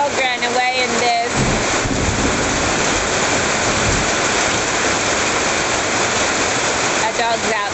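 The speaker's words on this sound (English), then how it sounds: "Talk about a downpour." Heavy rain pours down in a dense, steady roar, loud and unbroken throughout, with a faint high chirping briefly near the start.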